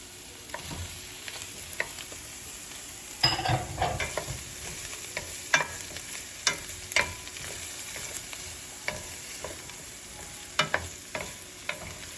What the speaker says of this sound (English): So now we're going to add 2 sticks of butter that I've cut up.